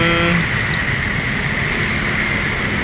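The first bus from West Sumatra, an NPM Sultan Class coach, pulls in, its engine giving a continuous close drone with a steady hiss of road and machinery noise.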